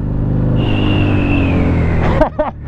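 A Husqvarna Nuda 900R twin-cylinder motorcycle on its stock exhaust runs close and loud, a low rumbling idle rising into a sustained rev with a whine above it, then dropping back with a couple of sharp throttle blips near the end.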